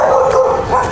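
A little puppy dog gives a short, close yipping whine, high and tonal, lasting about a second with no voices around it.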